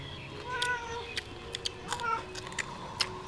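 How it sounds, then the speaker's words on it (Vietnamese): A cat meows a few times in short, fairly faint calls over steady background noise, with no clear talking. "Mèo."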